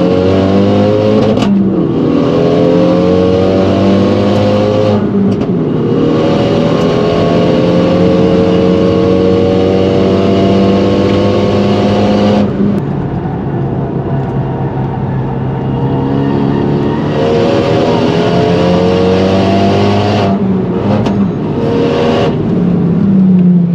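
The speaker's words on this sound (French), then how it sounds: "on est à bord de cette magnifique Mégane RS configurée justement pour la piste" A track-configured Renault Mégane RS driven hard on a small race circuit, recorded from inside the cabin: loud, sustained engine drone rising and falling through revs, with sharp shifts and brief lifts between pulls.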